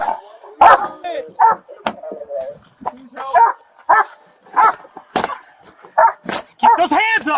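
A police dog barks loudly and repeatedly at close range during a tense arrest at a vehicle, sharp barks and yips mixed with whimpers in an uneven rhythm.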